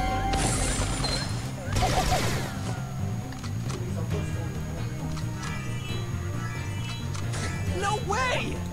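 Gunfire and explosions from Penny in the Brawl Stars video game, a busy stretch of repeated shots and bursts with a heavy low rumble throughout, layered under game music and effects.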